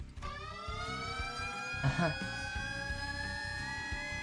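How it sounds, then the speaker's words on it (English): In the video game Limbus Company, a sustained alarm blares steadily at moderate loudness, its held tone continuing throughout with a brief rattling burst partway through. "That was Mephistopheles' scream. Or the alarm, rather"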